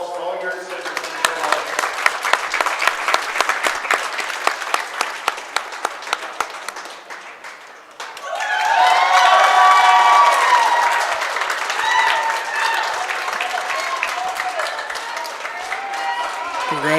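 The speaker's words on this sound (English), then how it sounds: "round of applause for all your exhibitors" Loud applause from a large crowd at a junior livestock stock show awards, steady clapping that swells after a brief dip, with cheering voices rising over it in the second half.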